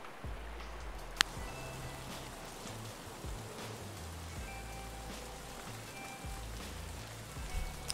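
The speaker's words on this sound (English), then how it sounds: "Such a quiet, like rainy." Steady rain patters on surfaces in the video game Escape From Tarkov, a soft, even wash of droplets throughout with a faint distant click or two and no speech.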